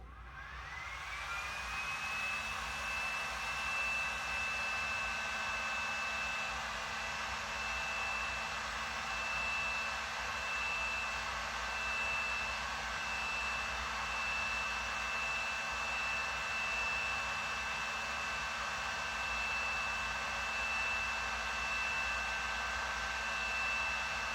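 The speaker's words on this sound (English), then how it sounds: "We just need to start blasting some of the areas with heat that look the most separated." A heat gun blasts hot air at the separating sole of a Nike Air Barrage sneaker, giving a loud, steady, unbroken roar with a thin high whine. It runs close and alone for the whole stretch.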